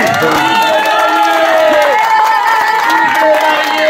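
Wedding guests applaud and cheer together in a dense, steady wash of crowd noise, with tonal voices and whoops running through it from start to finish.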